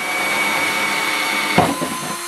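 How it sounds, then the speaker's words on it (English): A steady, loud, whining power drill boring pilot holes for bulkheads through plastic buckets, running continuously with a brief bump in pitch near the end. "So we'll just go ahead and cut on the same side at the same height pilot holes"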